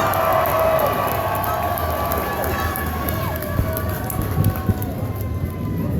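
Fairground crowd at a small-town monster truck show cheers and applauds in a steady, loud roar, a dense wash of voices and clapping that holds for the whole stretch.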